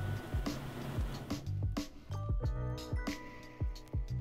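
A domestic sewing machine runs a long continuous seam on fabric for an 1890s Victorian walking skirt, a steady mechanical whir broken by regular soft thumps at an even pace.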